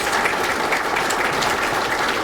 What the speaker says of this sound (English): Let's give them another round of applause to Open House.